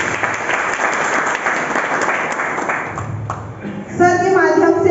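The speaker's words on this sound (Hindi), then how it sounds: "उनके सम्मान के लिए मैं जोरदार ताली चाहूँगी" Loud applause from an audience fills a testimonial gathering, dense and steady for several seconds, then thins as a voice begins speaking over the tail end.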